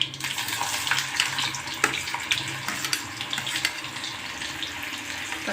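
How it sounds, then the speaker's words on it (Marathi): Onion dropped into hot oil already crackling with mustard seeds and cumin, a loud, dense hiss and sputter of frying with small pops throughout, no talking. "आता इथे कांदा टाकून घेऊया"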